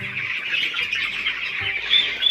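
Broiler chicks about sixteen days old, around 250 to 300 grams each, on a farm holding some seven thousand birds, chirping in a constant, high-pitched chorus that is fairly close and steady.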